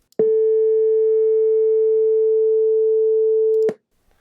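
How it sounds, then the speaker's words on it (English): A pure, steady 440 hertz sine tone sounds alone for about three and a half seconds, starting and stopping abruptly with soft clicks. "So that's 440 hertz."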